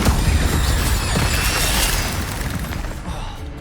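Incendio fire spell cast in the video game Hogwarts Legacy, a loud, dense burst of roaring magical fire and rumbling impacts that stays strong for a few seconds before easing slightly.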